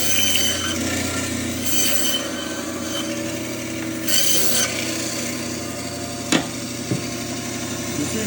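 A knife trims fat from raw oxtails for barbecue, making steady, close rasping and rubbing scrapes as the blade drags through the meat, with a couple of sharper knocks near the end.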